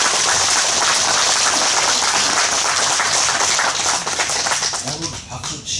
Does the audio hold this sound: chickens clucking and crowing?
no